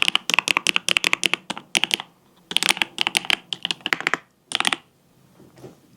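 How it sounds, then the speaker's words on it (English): Close, crisp clatter of typing on a Keyboom mechanical keyboard in a home office, quick bursts of keystrokes separated by short pauses, then a few isolated clicks trailing off, with no talking. "This is my Keyboom keyboard. And I have to say, I just love how it sounds."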